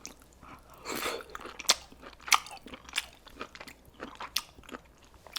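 Crunchy chewing and biting of scallop and seafood dipped in sriracha, close and wet, with irregular bites and smacking over about five seconds, no talk.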